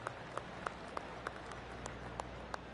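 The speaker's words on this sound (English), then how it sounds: "Oh, I can hear the golf claps around the course." Scattered golf claps from spectators around the course at a golf tournament's 9th hole, faint and distant: a sparse, slow patter of single hand claps over quiet outdoor background.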